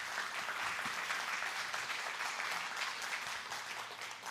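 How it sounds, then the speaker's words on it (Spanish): A church congregation at a Sunday service applauds steadily, a dense wash of clapping that holds for several seconds with no speech over it. "¿Por qué no le dan un aplauso al Señor de señores?"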